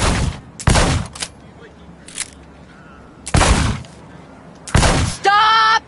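Loud, close gunshots at a shooting range station ring out as a few sharp bursts spaced across several seconds, ending in a brief steady electronic tone.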